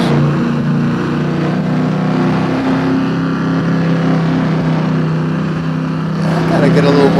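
Car engine in a racing video game easing off the throttle, a steady loud drone with a low harmonic hum running throughout and a brief rise near the end, with game noise underneath.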